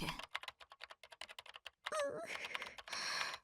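Rapid keyboard typing in the visual novel Chaos;Child, a burst of dense clicking keystrokes followed by a louder clattering stretch, with brief speech-like sounds mixed in.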